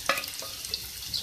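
A medium-sized onion frying in hot oil for a bhindi gravy gives a steady, close hiss of sizzling with a couple of light stirring scrapes near the start.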